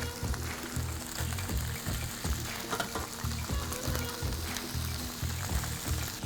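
Octopus and potatoes sizzle and crackle in a hot pan, a steady frying hiss with faint stirring and scraping underneath.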